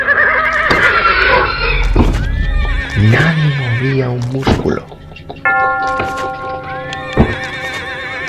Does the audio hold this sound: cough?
no